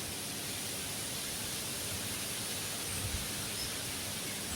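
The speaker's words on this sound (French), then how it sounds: "le vent, il n'arrange pas forcément les choses" Wind blows steadily across a lakeside fishing spot, a flat, hissing rush with one faint low bump partway through and no voices.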